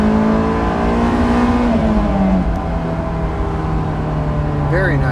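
A Honda S2000 sports car engine pulls hard in third gear, a loud, steady droning tone heard from inside the car that slowly eases in pitch as it runs.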